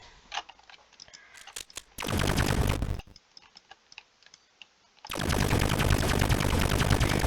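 A gun from the Roblox FPS kit fires in two long, loud bursts of rapid, minigun-like shots, separated by quieter stretches of faint ticking.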